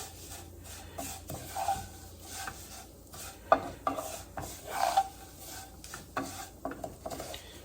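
Fideo noodles toast in a pan while a utensil stirs and scrapes them in uneven strokes over a faint sizzle, close and quiet, with no talking.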